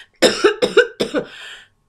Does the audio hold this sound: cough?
yes